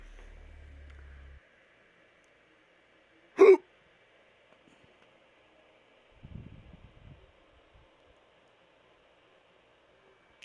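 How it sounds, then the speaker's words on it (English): A single sharp hiccup bursts out once, loud and brief, against a quiet room during a live PS4 game broadcast, followed by faint rustling. "I got the hiccups."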